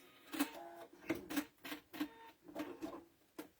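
A sewing machine fitted with a walking foot stitches through thick fabric, making uneven bursts of heavy mechanical thumping and whirring that stop and start, close and quiet overall.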